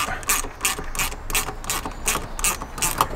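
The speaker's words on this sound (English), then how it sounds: "Just loosen up the Jubilee clip." A ratchet tool clicks in a fast, loud, steady run while loosening a Jubilee clip on a motorcycle's ram-air induction intake cone, heard up close with no talking.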